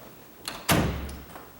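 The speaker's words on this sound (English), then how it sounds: "I'm going to close this door." A tall, sagging door swings shut with one loud knock and a short rattling settle, preceded by a faint click, close by with no talk.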